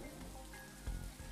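Steady rain falling in The Riftbreaker, a soft continuous hiss of drops on surfaces with a low rumble underneath, brief and fairly quiet, with no voices.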